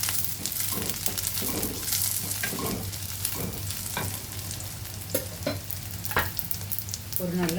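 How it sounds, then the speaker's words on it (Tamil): Dried red chillies and curry leaves fry in hot oil over sautéed onion, a loud, steady sizzle with crackles and scraping stirs and occasional utensil clinks against the pan, with no talking. "இப்போ ஒரு 4 வரமிளகாய், ஒரு கொத்து கருவேப்பிலை போடுறேன்."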